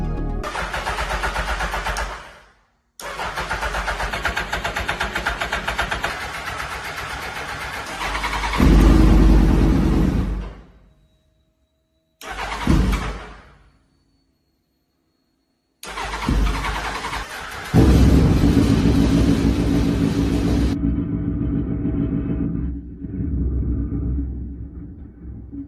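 A Suzuki Hayabusa superbike engine, freshly fuelled during a rebuild, cranks and catches in several loud bursts separated by silent pauses, then settles into a steady running idle.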